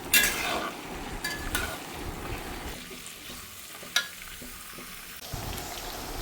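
Peeled garlic being stirred as it fries in a pan for garlic pickle, heard as a close crackling sizzle with scraping strokes and a sharp clack of the spoon, louder at first and then settling, with no speech.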